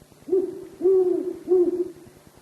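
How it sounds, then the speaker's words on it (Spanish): An owl sharing a daytime cave in the Ecuadorian highlands gives three low, resonant hoots in a slow, evenly spaced series, fairly close and clear against a quiet background. "Un búho comparte la cueva con ellos durante el día."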